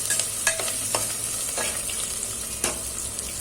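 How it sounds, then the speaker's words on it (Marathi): Dal khichdi mixture with potato stirred in a pan, a steady low sizzle under a handful of distinct scraping strokes of the spoon at irregular intervals, close and fairly loud, no talking. "हे मिक्स करून घ्यायचं आहे आपल्याला छान"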